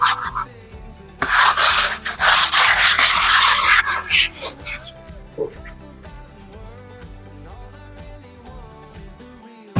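Hard sandpaper rubs by hand across a painted interior wall, a loud rasping scrub lasting a few seconds, followed by quieter intermittent scratching strokes.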